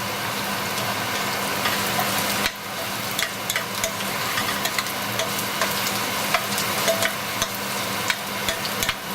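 Onions sizzle and crackle steadily in hot olive oil in a pan, a dense close frying hiss with a sharp rise in intensity partway through as they hit the oil, plus scattered pops, with no talking.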